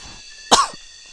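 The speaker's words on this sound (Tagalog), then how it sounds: "Parang umuubo ko guys" A person outdoors gives a single sharp, close cough that rises quickly and fades within a moment, with near silence around it.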